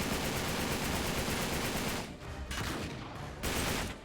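Dense automatic gunfire from the Uncharted 3 video game, with continuous rapid bursts and brief pauses between volleys, loud and close with no talking.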